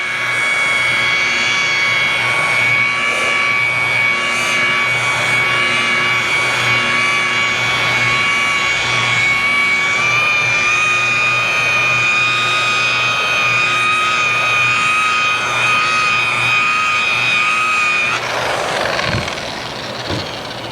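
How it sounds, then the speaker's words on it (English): A rotary polisher buffs a car's paint at around 900 RPM, a loud, steady motor whine with a high tonal drone that runs unbroken for most of the time before the machine cuts out near the end. "I'm set up to around 900 RPM, not too much, but you want to use that friction from the pad to create that heat to bring that shine up"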